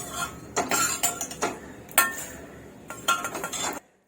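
Roasted crisp puffed rice is tipped from a kadai into a dish, giving a run of dry rattling clinks and scraping bursts close by, ending abruptly in silence.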